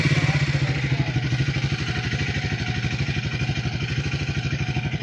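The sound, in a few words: Triumph Speed 400 motorcycle being started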